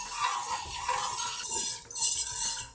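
A spoon stirs boiling water in a pot for koozhu dosai batter made with rice, giving continuous scraping and swishing with light metallic clinks against the pan.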